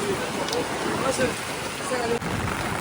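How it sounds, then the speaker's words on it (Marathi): Rain falls on umbrellas near a seaside fort with rough waves, a dense, steady hiss close by, with faint voices underneath. "पाऊस चालू आहे आम्ही छत्री पकडलंय"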